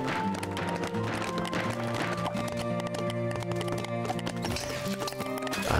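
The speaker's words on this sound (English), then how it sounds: "The horses return." Spartan cavalry horses in the strategy game 0 A.D., hooves clip-clopping in a dense, busy stream with occasional whinnies over layered game music and ambience, steady and fairly loud.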